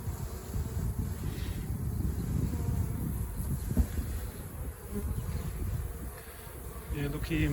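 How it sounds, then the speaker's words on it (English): Dense swarm of bees buzzing steadily inside a hollow log beehive cut open with a chainsaw, a continuous close drone that swells and fades with no talking. "Yeah, look here, more cluster of bees in the back there."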